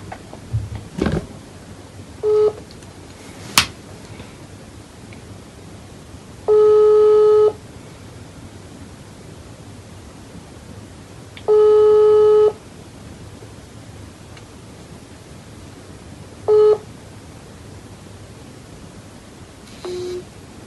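Phone call tones: several spaced ringback beeps sound, each a steady electronic tone of about a second, with a few shorter blips and a brief click between them.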